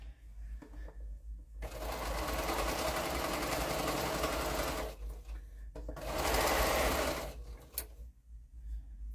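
A sewing machine stitching quilt seams runs in two loud, even bursts of rapid mechanical whirring, with short quiet gaps of light handling before, between and after.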